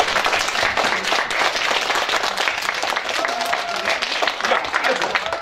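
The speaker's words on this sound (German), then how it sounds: "haben jetzt mal einen ganz tollen Applaus verdient." Audience applause at a school event, dense steady clapping from a crowd that fills the whole stretch at close range, with faint voices mixed in.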